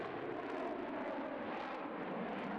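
A loud, steady F-16 jet engine roar during a steep climb fills the whole stretch, broad and rushing without letup, with no voices.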